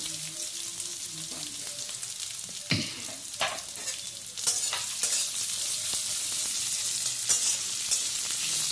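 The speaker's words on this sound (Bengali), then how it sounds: "এই অবস্থায় আমি গ্যাসের ফ্লেমটা খুব হাই করে খুব ভালো করে পেঁয়াজগুলোকে সোনালি করে ভেজে নেব।" Chopped onions fry in hot oil over a high gas flame, a steady close sizzle with occasional stirring scrapes of a spatula, no voices.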